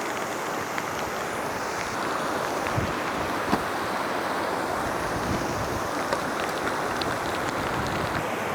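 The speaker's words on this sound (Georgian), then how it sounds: "იმატებს ეს მდინარე რა ნელ-ნელა, რასაც უყურებ უფრო მეტი და მეტი მოდის." A rising river flowing in rainy Racha, a dense, steady rushing roar of water with wind noise, continuous and close with no talk.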